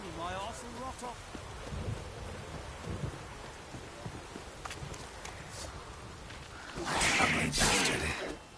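Steady rain and rumbling thunder fill a video game scene, a continuous downpour hiss with a louder thunder swell near the end; a voice mutters briefly over it.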